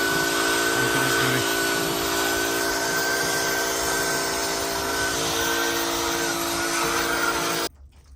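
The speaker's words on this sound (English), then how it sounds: "Get that Bondo sanded off of there." A power sander grinds Bondo off a vehicle body with a steady, close, whirring drone that runs for several seconds, then cuts off abruptly near the end.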